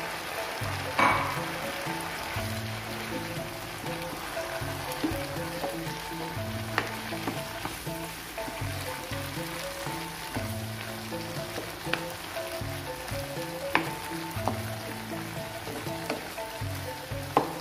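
Bean sprouts and scrambled egg stir-fried in a pan give a loud, continuous close sizzle, with repeated scraping and stirring knocks throughout.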